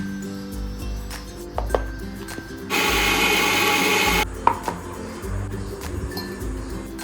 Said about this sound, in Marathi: आता याच्यात पाणी घालायचं आणि मिक्सरला लावायचं.